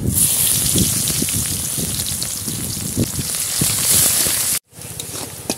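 Chopped onion frying in hot oil in a pan for fish kalia, a loud, steady hiss and crackle with scattered pops, cutting out briefly near the end before resuming.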